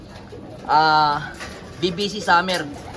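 A young racing pigeon coos in two close, throaty bursts, loud and near, with people talking around it.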